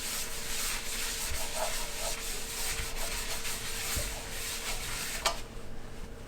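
Oil being rubbed across an $18 Walmart skillet in a home kitchen, a steady close scraping and wiping sound with a few faint clinks, no talking.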